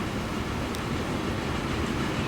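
Train rolling past in the Transport Fever 2 railway simulation game, a steady broadband rumble of wheels and cars lasting the whole moment, loud and continuous with no talk over it.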